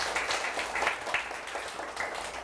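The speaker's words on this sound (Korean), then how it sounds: "박수 소리가 더 힘찬 것 같아요" Lecture audience clapping at the start of an HSK exam-prep class, a brief burst of applause at moderate level, fairly even and without talk over it.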